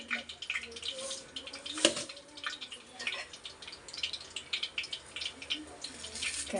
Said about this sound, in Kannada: ಸಾಸಿವೆ, ಚಟಪಟ